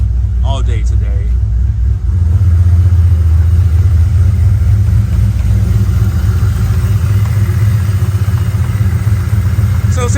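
A Ford Mustang engine idles steadily while warming up outdoors on a rainy day, a continuous low rumble close by; a voice speaks briefly over it at the start.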